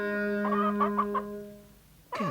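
Hens cluck in a series of short, close, rhythmic calls over a steady electronic tone in a scene about chickens and cholera microbes with Louis Pasteur, then a sharper squawk at the end.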